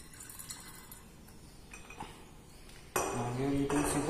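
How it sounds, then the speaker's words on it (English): Purified water poured into a peppermint water preparation in a glass vessel, faint clinks and drips at first, then a louder steady pouring trickle starting partway through and running to the end. "Now we will add 19 ml of purified water into our preparation."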